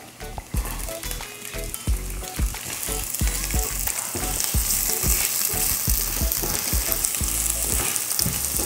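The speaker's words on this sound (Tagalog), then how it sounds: "Igisa lang natin yung sibuyas hanggang sa tuluyan na itong lumambot." Onions saute in a hot pan for a creamy beef and mushroom dish, a loud, steady sizzle broken by repeated scraping and stirring knocks from a utensil, with no talking.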